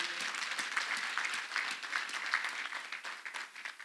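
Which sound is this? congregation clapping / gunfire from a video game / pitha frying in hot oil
congregation clapping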